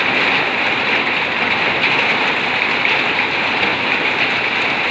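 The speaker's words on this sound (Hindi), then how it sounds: "बहुत ज़बरदस्त बारिश हो रही है लादरिया गांव के अंदर।" Heavy rain pours down over a village in Rajasthan, a dense, unbroken hiss of water hitting the ground, loud and steady with no let-up.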